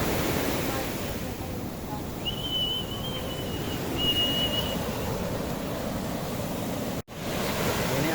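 Strong ocean surf on a coast, heard as a continuous loud roar of breaking waves mixed with wind buffeting the microphone, with a faint thin whistle passing through midway.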